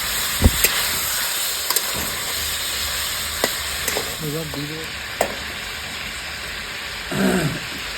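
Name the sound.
meat frying and being stirred in oil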